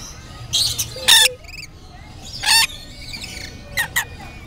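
Pet lovebirds let out sharp, shrill squawks in short separate bursts, close by and loud, with quiet gaps and faint background noise between calls.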